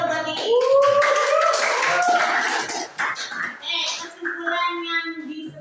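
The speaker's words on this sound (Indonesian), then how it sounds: "Aplaus dulu buat Kiki" A class claps for a student after her presentation, quick uneven handclaps mixed with overlapping young voices and chatter, near and fairly loud.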